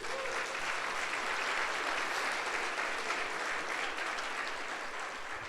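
A church congregation at a Sunday service claps together in a dense, steady wash of applause that holds evenly throughout.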